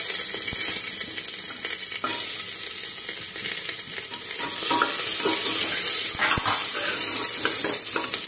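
Onion and crushed garlic sizzle steadily in a hot pan with whole spices, with occasional stirring scrapes, close and continuous for the whole stretch, no voices.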